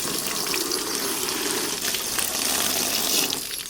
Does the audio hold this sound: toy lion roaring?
no